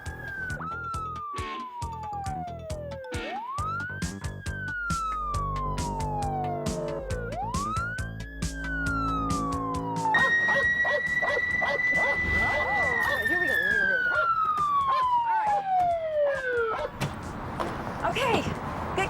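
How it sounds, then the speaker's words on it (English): A police siren wails and rises and falls repeatedly, then switches to a sustained tone, loud and close, with a dog barking and voices underneath. "Lights on, siren."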